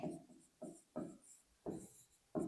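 A pen writes out a vector equation, making short, close, scratchy strokes in about six separate bursts with quiet pauses between them.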